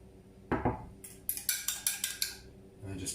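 Separated egg yolks being mixed in a bowl, a quick series of sharp clinking taps of utensil against the bowl, close and clear over quiet background.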